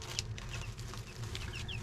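Week-old chicks and young chickens in a coop giving soft scattered peeps and clucks over faint rustling background noise, quiet and close, no talk.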